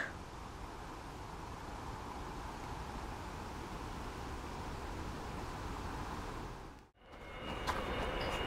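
A cargo train crossing a large railway bridge below a hilltop path, a steady distant rumble and hiss that runs on at an even level before cutting out abruptly.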